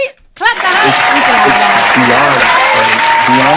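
A studio audience claps on a talk show, loud, dense applause arriving suddenly and holding steady, with a voice speaking over it.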